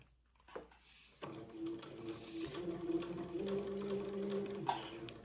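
A sewing machine sews slowly along a curved seam, attaching a bias strip on a French Acadian sundress. It runs quietly and steadily after a few soft handling noises, with occasional clicks.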